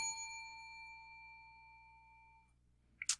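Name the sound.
inappropriate bell ringing on a quiz show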